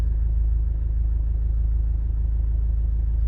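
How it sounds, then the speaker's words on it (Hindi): A car idles and rumbles on a narrow, dangerous mountain road between Kathmandu and Raxaul, a steady, loud, low engine drone close by as another vehicle approaches, with no voices. "वो गाड़ी उधर से आ रही है"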